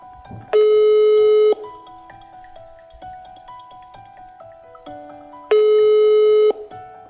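An outgoing telephone call rings unanswered: two long, loud electronic ringing tones with quieter tonal beeps between them, and no voice picking up.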